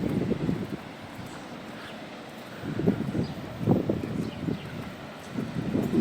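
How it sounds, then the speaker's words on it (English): Gusty wind on the Benidorm seafront on a rough day, a low rumbling buffet against the microphone that swells and drops in bursts, with a faint background of surf and beach noise. "There's quite a bit of wind today."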